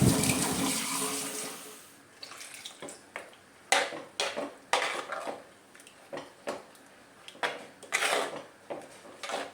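Water poured into a pan of dried fish curry: a splashy pour at first, then scattered clinks and knocks of a pan and utensils, close and fairly quiet, with no talk.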